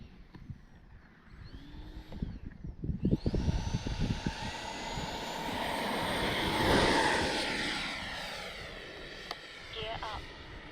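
A small RC model L-39 Albatros jet's motor whines up to a high, steady buzz and swells as it passes nearby, then fades, with people talking intermittently.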